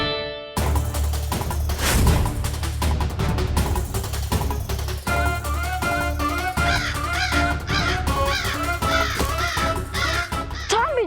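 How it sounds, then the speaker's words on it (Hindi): Crows caw repeatedly over a dense, busy background of music and noise, their harsh calls coming in quick overlapping bursts toward the end. "ये कौवे पीछे पीछे ही आ रहे हैं"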